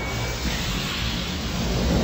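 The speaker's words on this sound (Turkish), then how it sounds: "Bu bir fırtına saldırısı." Whooshing, roaring storm-attack effect from a Beyblade cartoon battle: dense, steady broadband rumble like wind and thunder, loud and continuous throughout with a deep low-end roll and no voices over it.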